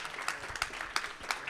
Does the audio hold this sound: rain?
no